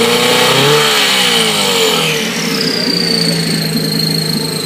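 A customized Mercury outboard motor on a bass boat, pull-started, runs loud and close, its engine pitch rising and revving before settling into a steady, buzzing high idle, with no talk over it.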